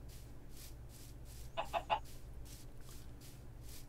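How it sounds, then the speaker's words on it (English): Chickens in Minecraft give a short burst of three quick clucks in the middle, fairly clear over a low steady game ambience with no talking. "Chickens and pigs out in the middle of nowhere."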